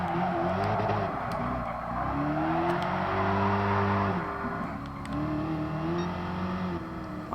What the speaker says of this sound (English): Very powerful. Charger Hellcat, obviously.